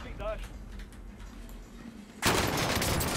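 Gunfire from a gun in the Call of Duty Warzone zombies mode: game sounds at first, then a loud, sustained burst of shooting fills the last second of the clip.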